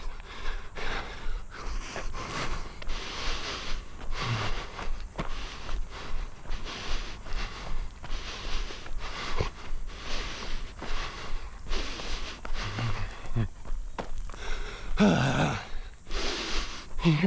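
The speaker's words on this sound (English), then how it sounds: "You hear that nose breathing?" Heavy, rhythmic nose breathing after a 4-mile run: repeated loud snorting inhales and exhales, close and fairly regular, with no talking.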